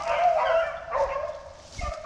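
A young hunting dog barks and yips while chasing a rabbit during a rabbit hunt in Louisiana, its calls steady and moderately loud across the whole stretch.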